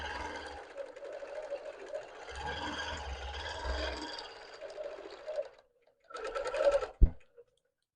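A BERNINA sewing machine stitches along a ruler guide with a steady whirring run, pauses, then a short second burst ending in a sharp click.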